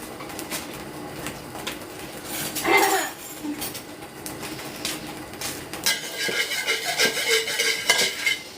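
Spicy eel stir-fried in a pan, with a soft ongoing sizzle broken by clinks and scrapes of a utensil against the pan, one louder scrape partway through and busier clatter toward the end.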